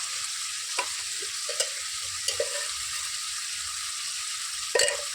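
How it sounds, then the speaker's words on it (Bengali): Spices sautéing in a pan for a cauliflower, potato and duck egg curry, a constant bright sizzle broken by occasional scrapes and taps of a stirring spoon. "এবার কষানো হবে।"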